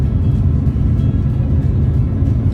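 A 1974 Porsche 911 Carrera's air-cooled engine with a magnesium case idles with a loud, steady low rumble and a dense, even throb throughout.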